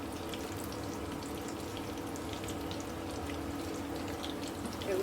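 Chopped garlic and ginger frying in hot oil for a dried ribbonfish curry, giving a soft, steady, low-level sizzle with faint crackles under a constant background hum.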